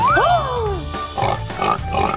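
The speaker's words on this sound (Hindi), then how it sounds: "सुअर।" A pig oinks and grunts in a few short bursts, starting with squealing rising-and-falling calls and then giving choppy snorting grunts, close and fairly loud.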